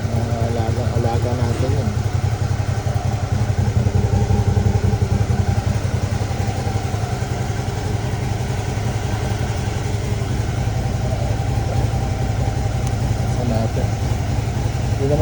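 A Suzuki V-Strom DL 650 motorcycle idles nearby with a steady, even engine rumble after sitting unused for months. Someone speaks briefly over the engine.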